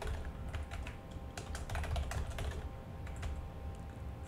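A password being typed on a computer keyboard, a quick uneven patter of close key clicks over a low steady background hum, with no speech.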